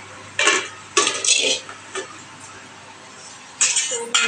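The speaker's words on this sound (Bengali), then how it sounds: "এই যে দেখো, এই রান্না হচ্ছে।" Cooking in pots and pans, with several bursts of metallic clanking and scraping of utensils against cookware, separated by quieter stretches of low kitchen noise.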